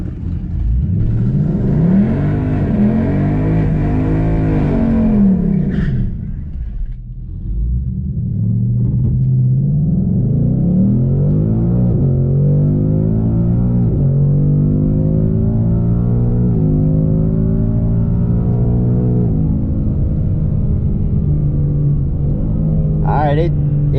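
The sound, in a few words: car launching at the drag strip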